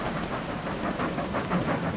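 Steady locomotive rumble and rolling rail noise from a train in Sid Meier's Railroads, continuous and fairly close with a faint high whistle-like tone partway through.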